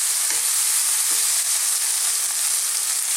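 Split chillies fry in a hot pan with a steady, bright sizzling hiss throughout, plus a few faint stirring knocks, heard alone.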